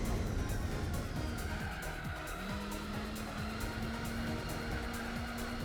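Nissan GT-R race car engine in Gran Turismo 4 drones steadily at high revs throughout, with a rising tone and tire squeal over continuous racing noise.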